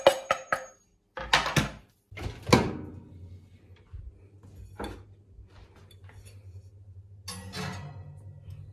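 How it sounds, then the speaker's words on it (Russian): Pieces of chocolate are dropped into a dish for melting, several sharp clinks and knocks in a quick cluster. More clatter follows after a pause, and a low steady hum runs underneath. "Закладываю весь шоколад вот в эту посудину"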